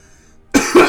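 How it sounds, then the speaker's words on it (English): Two abrupt, harsh coughs from one person burst out close and loud after near silence, the second slightly stronger than the first. "apologize for the coughing"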